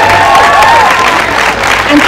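An audience at an early childhood education event in Cork gives a final round of applause for the speakers. The clapping is loud, close and sustained, with scattered cheers and voices mixed into the crowd.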